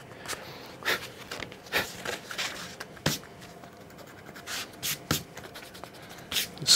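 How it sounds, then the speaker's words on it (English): Repeated light rubbing and brushing strokes of an eraser cleaning small pencil marks off antique mat board, a series of short close scrubbing bursts with brief pauses between them. "Just clean up any little bits of pencil where you may have."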